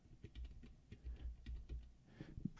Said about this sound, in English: I'm just typing something for someone.